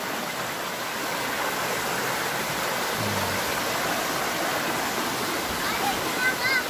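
A clear mountain river runs steadily after rain, a broad continuous rushing wash close by, with a brief voice and a few faint bird chirps near the end.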